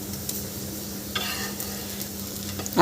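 Crispy rava veg pola fries in oil on a pan, a steady close sizzle that keeps going, with a faint scrape at about one second and a light clink at the end.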